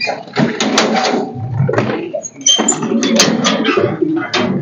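Pigeons coo and flutter nearby as they crowd around to drink water on a hot day. Soft throaty coos repeat over brief bursts of wing flapping and scuffling.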